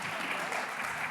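Audience applause at a panel on Black women's and children's health, a steady wash of clapping that fills the whole moment at moderate level.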